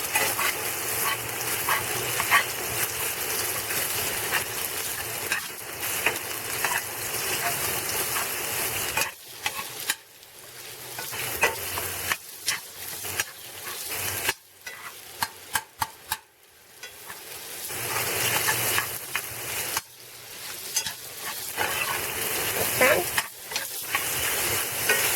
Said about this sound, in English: And just saute, crumble it up.